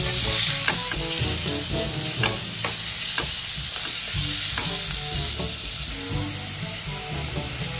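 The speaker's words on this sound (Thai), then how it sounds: "ตั้งกระทะแล้วก็ล้วนหมู3ชั้น" Pork belly sizzles steadily in a hot pan, close and loud, with intermittent scraping and clinks of stirring over the constant frying hiss.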